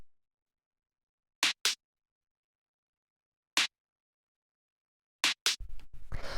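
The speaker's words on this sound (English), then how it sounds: "Then we have the second snare," A short snare sample in a minimal house beat, struck alone in quick pairs with a single hit between them, crisp and bright against silence, then a busier rhythmic pattern begins at the end.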